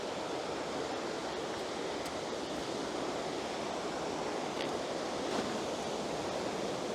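Water rushing from a stream and waterfall along a woodland path, a continuous broad, even roar with occasional faint ticks, steady throughout.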